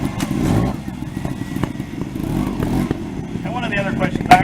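A 300cc two-stroke, six-speed stunt motorcycle of about 150 pounds idles and burbles steadily at a motorcycle show, with a short throttle blip near the end and talk over it.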